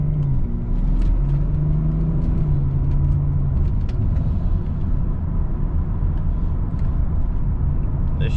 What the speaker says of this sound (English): Here's some driving and shifting points with some moderate